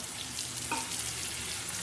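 Onions and spice paste fry in a pan for a Bengali egg curry, giving a soft, steady sizzle that stays faint throughout.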